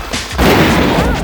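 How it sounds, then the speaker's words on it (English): Gunfire in a Sega video game, where the military opens fire on a graffiti-spraying character: a dense, loud, continuous burst of shots and blasts lasting about a second. "he's trying to drown out the sound of gunfire"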